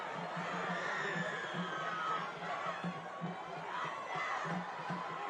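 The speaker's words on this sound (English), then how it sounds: "You can hear all the crowd getting crazy." Steady crowd roar with cheering and scattered shouts at a high school football game between Bishop Gorman and Mater Dei, heard from a distance, moderately quiet and continuous.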